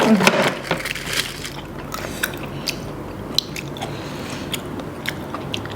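Giant cockles with a spicy sweet dipping sauce are bitten and chewed up close, with crunchy crackles and wet squishes repeating irregularly over steady background noise.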